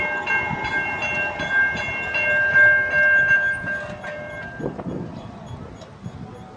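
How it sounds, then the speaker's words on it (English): A passenger train rolls past with a sustained horn blast sounding over the rumble of the cars, followed by clattering wheel noise as it continues by. "Here comes the train."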